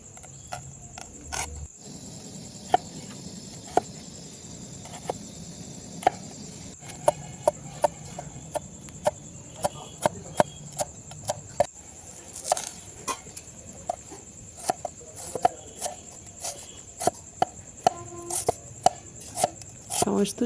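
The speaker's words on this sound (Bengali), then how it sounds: "সব সবজিগুলোকে আমি ভালোভাবে লম্বা লম্বা কেটে নেব" A knife cuts vegetables into long strips on a board for restaurant-style egg noodle chow mein, a steady run of sharp, close chopping taps over a faint background hum.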